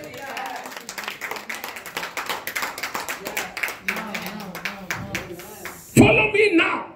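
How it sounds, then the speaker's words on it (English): A church congregation claps its hands during a sermon, rhythmic, uneven claps mixed with voices and background sound, followed near the end by a sudden louder burst of sound. "Clap your hands and give God praise"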